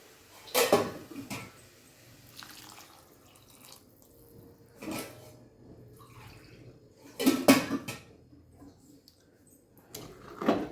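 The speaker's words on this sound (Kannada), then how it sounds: "ನೀರು ಒಂದು 2 ಕಪ್ಪಷ್ಟು ನೀರನ್ನ ಹಾಕೋದು." Water is poured into a cooking pot while misal is being made, coming in several separate short splashing pours with quiet pauses between them, close up.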